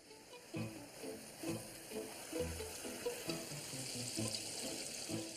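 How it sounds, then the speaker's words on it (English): Water pouring onto a garden pond liner to weigh it down and smooth out creases, a faint, close splashing and gurgling with irregular soft bursts over a steady wash, no voices. "To get the last creases out, it helps to weigh the liner down with water."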